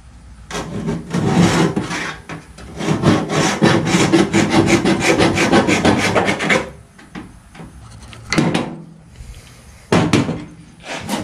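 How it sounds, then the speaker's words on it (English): Scribe tool dragged along the lower door skin of a car, scraping paint off the metal in a sustained rasping scrape for several seconds, then a few shorter close scratches after a pause. "We're gonna do a scribe mark."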